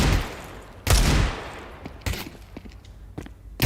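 Gunfire in Counter-Strike during a pro esports match: a few loud, sharp shots with quieter scattered pops between them, spread irregularly across a few seconds.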